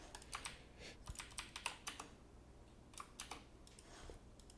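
Keys on a computer keyboard are tapped in quick irregular bursts with brief pauses, close and fairly quiet.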